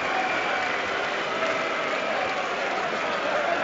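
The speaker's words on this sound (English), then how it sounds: "Each player will get, no doubt, applauded separately and cheered by the fans." Football fans applaud Southampton players celebrating a 4-0 promotion-clinching win over Coventry City, with steady, dense stadium clapping and a faint crowd roar throughout.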